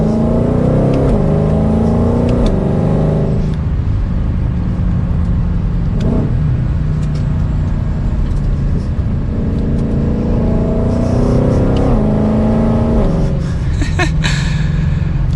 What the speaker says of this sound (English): and then we'll give it a little bit of gas